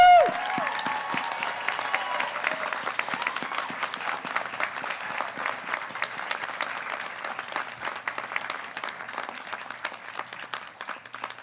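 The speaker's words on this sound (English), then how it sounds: "through your applause, cheering, revelry, whatever you want to do, is the time for you to tell them so" A graduation audience bursts into loud sustained applause and cheering after a whoop, thick crowd clapping that holds steady and slowly eases over about eleven seconds.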